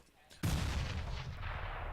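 Gunfire in a CS:GO match at a LAN championship: a sudden loud blast kicks off a dense, sustained rattle of shots and rumbling that continues to the end.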